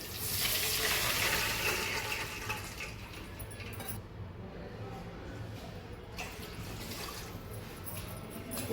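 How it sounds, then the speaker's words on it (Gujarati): Water poured into semolina, measured out as two bowls for potato-semolina snack balls, a steady broad wash of pouring that fades into quieter trickling and faint handling. "2 વાટકી આપણે પાણી નાખીશું"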